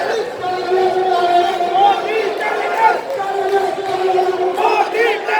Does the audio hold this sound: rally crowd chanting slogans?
yes